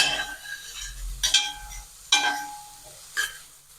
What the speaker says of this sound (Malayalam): മിക്സ് ചെയ്ത് കൊടുക്കാം